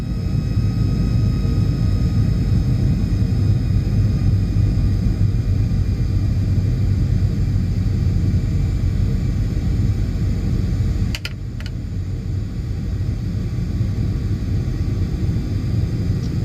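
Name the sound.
American Airlines PMDG 737-800 in a video game flight simulator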